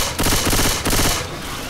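Rapid automatic gunfire from shooting at zombies in Left 4 Dead 2, two loud dense bursts of rattling shots with a short break between, close and dominant.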